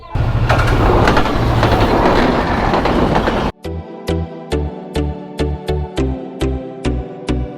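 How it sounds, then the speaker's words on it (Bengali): A train rumbles loudly across the Holholiya rail bridge at Akkelpur, Joypurhat, at first a dense roar, then sharp rhythmic clickety-clack wheel beats repeating evenly as the carriages roll over the rail joints close by. "যে হঠাৎ করে ট্রেন আসছে"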